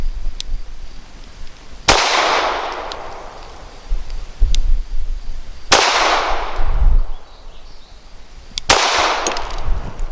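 Smith & Wesson Performance Center Shield EZ .380 pistol firing PMC Starfire ammunition outdoors, four sharp, loud single shots spaced a few seconds apart, each with a booming echo that decays slowly.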